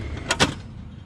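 Top drawer of a toolbox in a service truck sliding open, two quick metallic scrapes close together, brief and fairly close against a quiet background.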